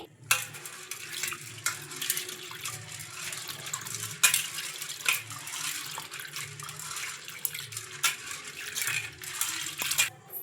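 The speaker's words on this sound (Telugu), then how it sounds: "ఈ శనగపప్పును ఒక 2 సార్లు శుభ్రంగా వాష్ చేయాలి" Chana dal, or Bengal gram, is swished and rubbed by hand in water in a mixing bowl, giving an irregular, close patter of grains, splashes and small clicks with no talking.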